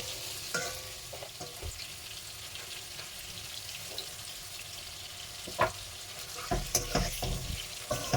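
Potatoes being stirred and roasted in oil for a spicy Tamil potato fry, a steady broadband sizzle with scraping spoon strokes that grow louder and sharper near the end, no talking.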